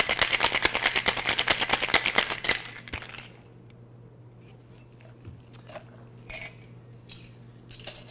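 Ice rattles hard inside a pint glass as a cocktail of Frangelico and Grey Goose Citron is shaken, a dense run of fast clattering for about two and a half seconds, then a quiet room with a few faint clinks and a low hum.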